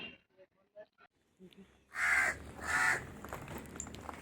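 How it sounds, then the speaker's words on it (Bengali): Crows cawing loudly nearby, two strong harsh caws followed by further calls, after a few softer sounds and quiet voices at the start. "কাকগুলো কেমন ডাকছে দেখো"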